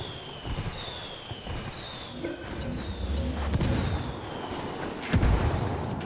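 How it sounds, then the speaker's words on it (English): An indirect fire artillery strike in Ghost Recon Wildlands lands in a series of booming impacts and crackling detonations, with faint whistles descending beforehand and the heaviest blasts building toward the end. "Calling for indirect fire."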